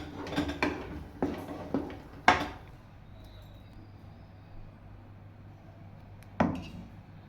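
Rice flour dough for ukadiche modak is stirred in a pot, giving a few sharp scraping knocks of a utensil against metal in a quick cluster, then a pause and one more clack, close and fairly quiet.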